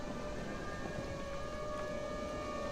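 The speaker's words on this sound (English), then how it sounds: "You can hear the siren that goes off when there's a tornado." A tornado warning siren in the Minecraft Localized Weather and Stormfronts mod wails as a steady, sustained tone heard from a distance over a constant rumble of wind and rain. No talking is heard.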